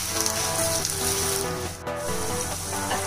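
Garlic ginger paste fries in a hot pan for a tuna dish, giving a constant broadband sizzle over a faint tonal hum. A brief dip comes near the middle.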